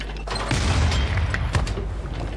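Units firing on an infantry corps in Civilization VI, heard as a dense rumbling volley of booms and thuds lasting the whole moment, with sharp bursts standing out over a continuous battle din.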